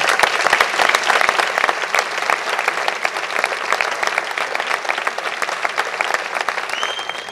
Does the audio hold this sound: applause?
yes